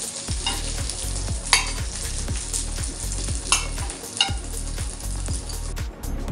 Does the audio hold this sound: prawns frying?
yes